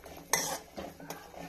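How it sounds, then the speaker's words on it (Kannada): A spoon stirring raisins frying in ghee for vermicelli payasam, giving a few brief scraping strokes with a soft sizzle underneath, quiet and close. "ದ್ರಾಕ್ಷಿಯನ್ನು ಸೇರಿಸಿ ಹುರ್ಕೋಬೇಕಾಗುತ್ತೆ"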